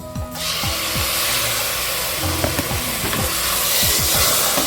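Tomatoes dropped into a hot pan or pressure cooker of oil and onions for egg biryani: a sudden, loud, steady sizzle of frying with a few scraping stirs, no voices.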